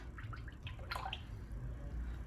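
Honey soap mixture pours into an inexpensive crock pot, giving a few small, faint drips and liquid splashes over a low steady background hum, with no talk.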